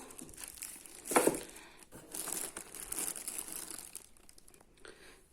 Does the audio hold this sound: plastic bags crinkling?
yes